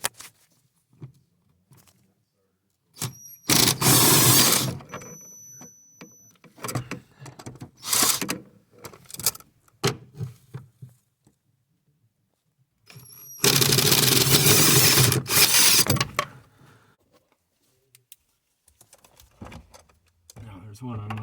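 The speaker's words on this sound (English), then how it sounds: "Next thing is removing the bolts that hold on the bracket on the firewall" A wrench works loose the 7/16 bolts holding the steering column bracket to the firewall of a 1990 Ford F150, making rapid ratcheting bursts and metallic clicks in close, loud spurts separated by pauses, with someone talking in between.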